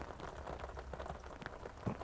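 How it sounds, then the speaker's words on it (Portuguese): Light drizzle falling in cold weather in Lages, a soft, faint, continuous patter of small raindrops on surfaces, with a few slightly louder drips near the end. "Tá garoando um pouquinho aqui em Lages, está fazendo um frio"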